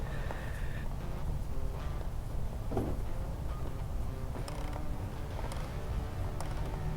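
Someone turns a part by hand during an oil change on a first-generation 2009-2016 Chevy Cruze, giving a steady, close creaking and grinding over a low mechanical rumble, with no talking.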